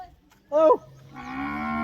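A buffalo lows: a short, rising bellow, then a longer, steady low moan after a brief pause, fairly close with no voices.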